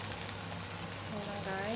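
Vegetables hiss and sizzle steadily in hot oil in a pan, quiet and close, with a brief clink near the end.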